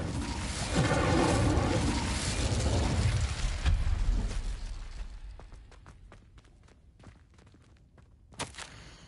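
Incendio fire spell cast in Hogwarts Legacy on PS5: a loud, broad whooshing roar of flame for several seconds that fades out, followed by a few scattered clicks and a sharp burst near the end.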